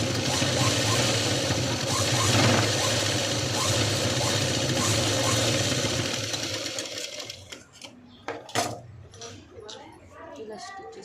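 A sewing machine stitching fabric runs in a steady, fast whirring rattle for several seconds, then stops, followed by scattered clicks and clinks close by.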